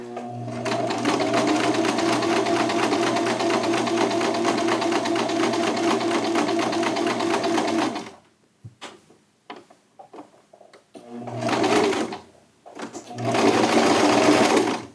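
Sewing machine stitching around the armpit onto a shirt sleeve, a long steady whirring run that stops, then a few faint clicks of handling and two short loud bursts of stitching.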